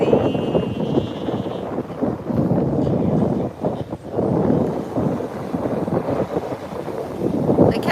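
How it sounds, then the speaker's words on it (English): Strong wind at Fort Myers Beach roars continuously, buffeting the microphone with gusts that swell and ease, loud and close, with the surf blurred beneath it. "Like how it's so windy, it makes the waves like kind of do wispy things."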